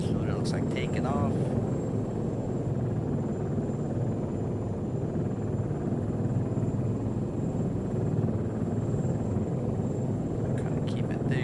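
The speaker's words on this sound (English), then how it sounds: "here, this is what it looks like taking off." A helicopter taking off in the Arma 3 game, a steady loud rotor and engine rumble that holds constant throughout, with brief faint clicks near the start and end.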